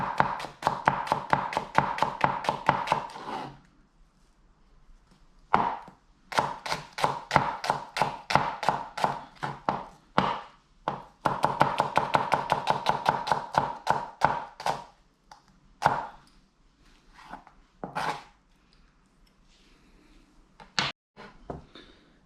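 A knife slices finely through peeled onion halves on a cutting board, making rapid, regular close tapping strokes in long bursts with brief pauses between runs.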